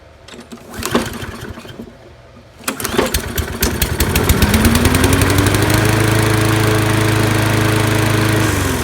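A Kohler engine on a Toro lawn mower, primed with carb spray, gives a few sputtering pops, then fires and runs loud and close with a steady, rising drone that holds for several seconds.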